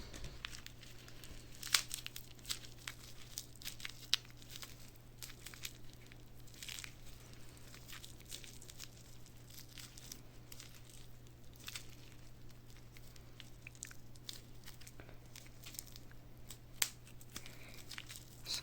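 Close, steady crinkling and tearing of packing tape and plastic film while unwrapping a parcel of coins, with sharp rustles scattered throughout over a low constant hum.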